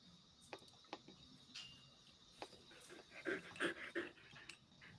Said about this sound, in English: Sad dog.